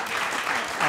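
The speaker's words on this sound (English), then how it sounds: "So give yourself some applause here." A conference audience applauds briefly, a short dense patter of clapping at moderate volume.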